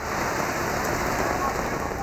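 Heavy rain pours down over city neighborhoods, a dense, constant hiss of drops drumming on surfaces, loud and unbroken throughout.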